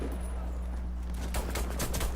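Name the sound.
pistol gunfire in the video game Warface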